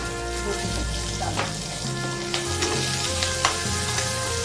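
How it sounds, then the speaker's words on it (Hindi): Chopped onions fry with cumin seeds in a pan, browning lightly, giving a continuous close sizzle with occasional stirring scrapes beneath soft background music. "प्याज हल्का ब्राउन होने तक हम भूनेंगे।"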